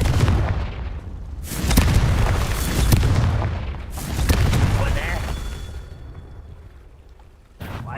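Confringo explosive spell cast in the Hogwarts Legacy video game, several loud booming blasts with crackling debris tails in irregular succession, each decaying before the next, with a final burst at the end.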